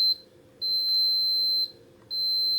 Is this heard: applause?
no